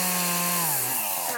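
A chainsaw cuts into a Christmas tree, its loud buzzing engine close and continuous, pitch dipping as the blade bites into the wood.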